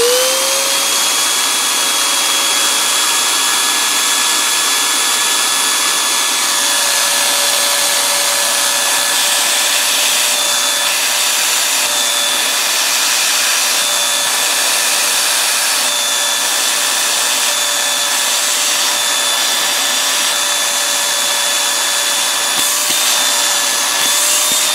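Housmile UV anti-dust mite cleaner running with suction, a loud constant whirring motor drone with a steady high whine that holds unchanged throughout, no voices.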